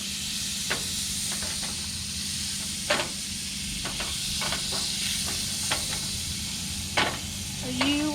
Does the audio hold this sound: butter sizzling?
yes